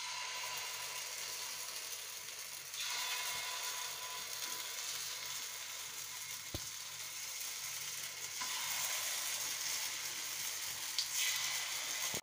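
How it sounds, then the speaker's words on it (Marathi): Appe batter meets a hot appe pan with a steady hiss and crackle. The sizzle swells twice as more batter goes in, with a faint tick partway through. "आप्पे बनवण्यासाठी मी इथे पॅन ठेवलेले आहे आणि यात मी आता बॅटर टाकते"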